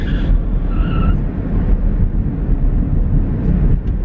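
A car passing outside makes a loud, steady rush of road noise throughout, with faint higher tones at the start.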